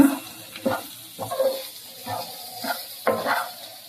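Potato roast being stirred with masala powder in a pan over a low flame: about five distinct scraping strokes in a steady rhythm over a soft, close sizzle.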